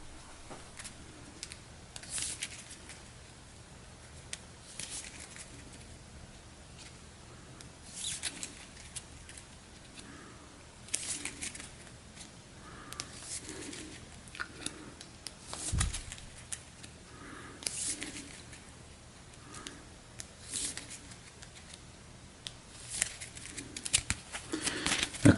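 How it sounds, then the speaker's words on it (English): Game cards from a Star Wars: The Clone Wars board game being shuffled by hand, soft repeated papery riffles and patters in irregular bursts, quiet and close, with faint talk now and then. "Then we will shuffle the discard pile."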